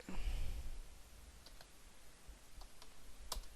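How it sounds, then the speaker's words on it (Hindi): Sparse clicks from a computer keyboard while text is typed into Microsoft Word 2007, a few faint isolated taps over quiet room noise after a short low rumble. "तो सबसे पहले कीबोर्ड से हम कुछ लिख लेते हैं।"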